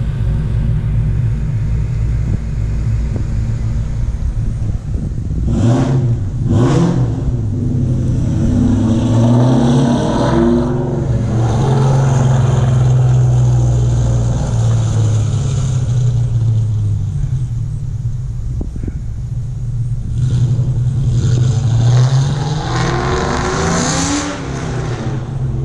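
A 2001 Ford Mustang Bullitt V8 fitted with stage 2 cams, loud and close, idling with a choppy lope, then blipped through repeated sharp revs before pulling away in a roaring, fading rumble.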